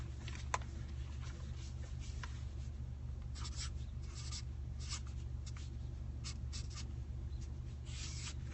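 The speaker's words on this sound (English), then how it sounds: "And the results, I'm going to write it down." Pen scratching on paper while results are written down, soft intermittent strokes over a steady low hum, no talking.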